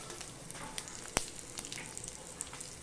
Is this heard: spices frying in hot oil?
yes